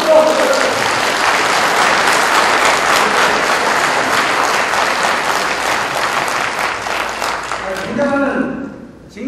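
Sustained applause from a crowd at an inauguration ceremony for a federation president, loud and steady for several seconds, then thinning toward the end as a voice begins.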